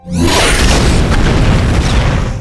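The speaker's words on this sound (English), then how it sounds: "precisely hitting the fuel tank, causing a massive explosion" A massive film explosion as a motorbike fuel tank is shot, a sudden loud boom that swells into a sustained, roaring blast with deep rumble throughout.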